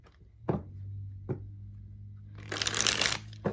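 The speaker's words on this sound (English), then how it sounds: "Okay, so let's get the tarot. I'm going to shuffle these up" Tarot cards being handled and shuffled. A couple of sharp taps are followed by a dense, crisp riffle of cards near the end, close and fairly loud, with nobody speaking.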